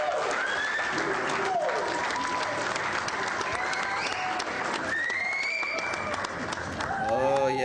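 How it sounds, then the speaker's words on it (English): Conference audience applauding a session speaker on Sitecore content migration, a loud, steady wash of clapping that fills the whole stretch, with cheering and talk mixed in above it. "Big round of applause for Jim."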